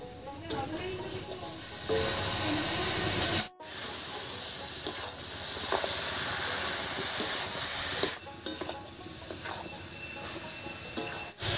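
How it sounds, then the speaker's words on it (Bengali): Grated coconut for a Bengali tokti sweet cooks in a pot on a lit stove, giving a steady sizzling hiss with repeated scraping stir strokes, close and continuous. "এবার বেশ কিছুক্ষণ খুব ভালো করে নাড়িয়ে চাড়িয়ে রান্না করে নেব"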